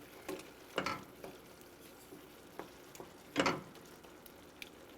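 Tomato and olive sauce simmers in a pan, giving a faint low bubbling and sizzle broken by a few louder stirring or clattering bursts, with no voices.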